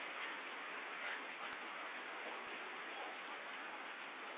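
Steady rain falls outdoors as a continuous, even hiss with a few faint ticks of drops hitting a surface, and no voices over it.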